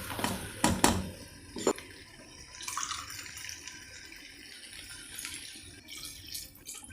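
Water runs steadily into a cooking pot with three cups of water for one cup of basmati rice in a masala khichdi recipe, starting with a few clinks and splashes and then a continuous close pour with no talk.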